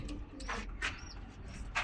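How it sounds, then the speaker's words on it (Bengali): Domestic pigeons, a pair of Teddy pigeons with a chick kept at home, give soft coos close by over a low background rumble. "এই কবুতরগুলো আমার বাসার অনেক পরীক্ষিত কবুতর"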